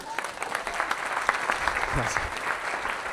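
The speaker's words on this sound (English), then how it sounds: "Round of applause." A small conference audience claps in a brief burst of applause after a keynote, steady and moderately loud, with a voice briefly audible beneath it.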